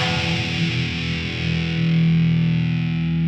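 An electric guitar played through the Bogren Amknob Rev C amp plugin with gain near 0.88 gives a thick, heavily distorted sustained chord with chorus-like shimmer, loud and alone.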